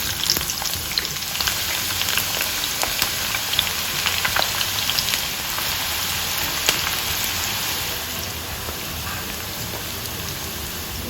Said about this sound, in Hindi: अब इसमें हम प्याज डाल देते हैं।